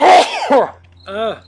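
A single sharp sneeze bursts out close and loud, followed moments later by a short voiced murmur.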